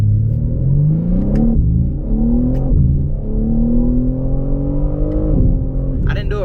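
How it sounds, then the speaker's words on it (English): A BMW M3 Competition in manual mode accelerates hard on a straight road, its engine loud and close and rising steadily through the revs across two upshifts, with a brief drop as each gear changes. "I'm gonna go ahead and do a dig right quick, cause like this is the best straightaway I'm gonna get on this road"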